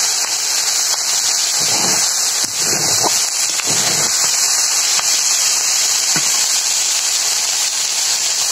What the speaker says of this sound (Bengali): একটু উল্টে পাল্টে ভেজে নিলাম।